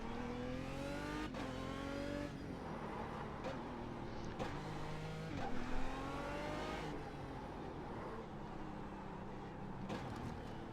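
An Aston Martin DB9 race car in the iRacing simulator revs hard around a figure-eight circuit, its engine note climbing and dropping through repeated gear changes, loud and close throughout.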